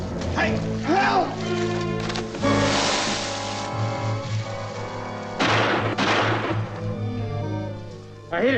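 Two heavy booming gunshots ring out in a 1957 zombie film, one early and one midway, loud and reverberant, with someone shouting and talking between and after them.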